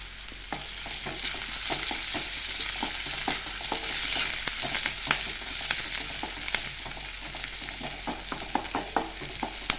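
Onion and curry leaves frying in a pan, a steady close sizzle with many sharp crackles and pops scattered throughout and no voices.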